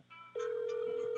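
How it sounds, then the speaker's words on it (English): A phone ringtone sounds during a Fortnite session, a bright sustained electronic tone starting abruptly after a short lead-in and holding steadily, with faint chiming overtones above. "What the hell is that ringtone"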